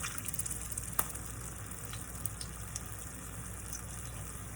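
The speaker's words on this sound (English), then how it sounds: "So they're gonna fry up for about, I'd say 3 to 4 minutes." Beans frying in hot oil, a steady soft sizzle and crackle with a few faint pops, close and continuous without talk.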